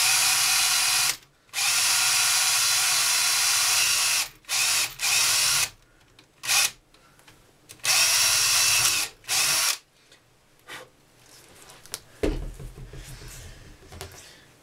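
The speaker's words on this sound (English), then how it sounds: "to drill through the wood and the plastic and then just put a bolt and a nut through" A power drill bores through wood and plastic in several loud bursts of whirring, separated by short pauses, then gives way to quieter handling clatter near the end.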